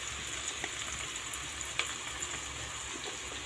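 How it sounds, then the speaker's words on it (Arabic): Chopped onions sizzle steadily in hot oil for a Sayadieh fish rice dish, a close, continuous frying hiss with occasional stirring clicks and no voices. "نحط كده لما الزيت كده يتقدح معانا او يسخن معانا"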